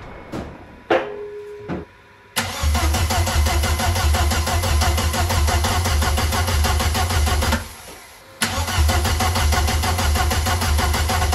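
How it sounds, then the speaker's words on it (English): The rear engine of a twin-engine Opel Corsa cranks briefly, then catches and runs with a steady close rumble, cuts out, and restarts to run again. "let's hear this back engine fire up and run"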